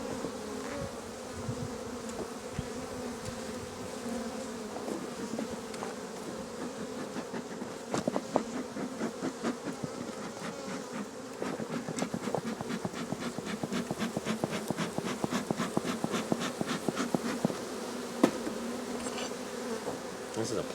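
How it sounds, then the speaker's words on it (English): Honeybees swarm around an opened flow hive with plastic frames, a thick, constant droning buzz close to the listener that swells as more bees take flight. "Lots of bees."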